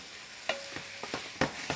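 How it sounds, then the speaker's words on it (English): Mushrooms, garlic and onions cooking in a pan give a steady sizzle, broken by several sharp scraping stirs at irregular intervals, close and fairly loud. "The mushrooms cooking down just enough."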